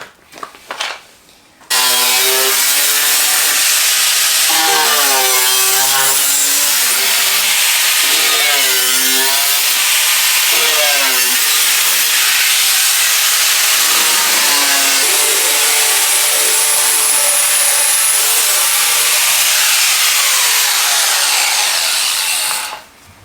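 A power tool spins a flap wheel against a steel edge to clean up fresh cuts. The grinding is loud, close and harsh, with the pitch rising and falling as the tool is worked, and it runs continuously for about twenty seconds.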